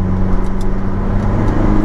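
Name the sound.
Opel Corsa OPC car engine revving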